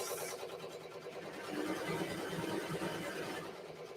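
A Ricoma MT 1501 embroidery machine stitches a name, giving a steady, rapid mechanical whirring and needle chatter that holds even throughout and swells slightly in the middle.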